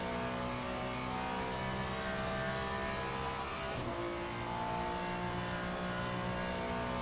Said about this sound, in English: We can hear the beautiful noise of the Ferrari of Lucas Capellini.